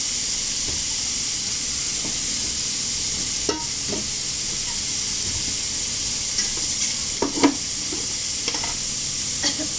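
Pumpkin pieces coated in a little oil fry in a pan with a constant close sizzle and steamy hiss, broken by a few scraping stirs of a spatula, with no voices.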